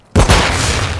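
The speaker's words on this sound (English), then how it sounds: "Flash grenade!" A flash grenade goes off in Call of Duty: Modern Warfare II, a sudden loud close bang followed by a second punch and a sustained ringing, rumbling tail.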